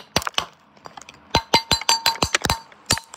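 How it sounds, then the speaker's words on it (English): A metal spoon strikes and cracks a massive frozen ice cube holding Lego minifigures. A brief pair of sharp clinks comes first, then a quick irregular burst of bright, glassy hits and cracks. "Breaking a massive ice cube with a spoon"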